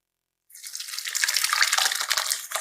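Cheese and whey pour into a strainer, a soft liquid splash that starts abruptly after a brief silence and runs on steadily, close and fairly quiet.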